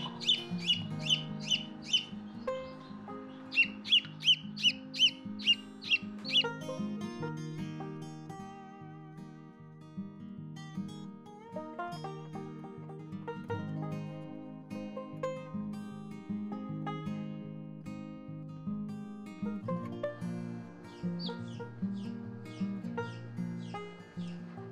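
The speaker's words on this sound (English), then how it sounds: "Do they look like Rhode Island red chicks?" Newly hatched Rhode Island Red chicks from an incubator peep in repeated high, bright chirps, clustered in quick bursts and then scattered throughout, close and fairly loud over a steady low hum.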